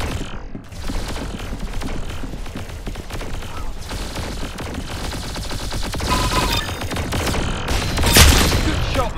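Dense, continuous gunfire from the Roblox-style shooter game Arsenal, rapid shots and mechanical clatter filling the whole stretch at steady loudness, with no talk over it.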